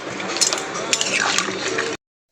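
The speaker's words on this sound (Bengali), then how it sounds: "জলটা দিয়ে একটা চাপা দিয়ে দেবো সয়াবিন আর আলুটা একটু ফোটার জন্য" Water pours into a pan of soybean and potato curry as a loud, close rushing splash for about two seconds, then stops abruptly.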